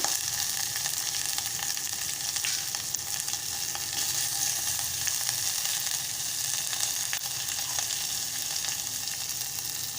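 Green chillies and ginger sizzle in hot oil for a Malvani buttermilk kadhi, a dense continuous close crackle that holds even and loud from start to end, with no talking.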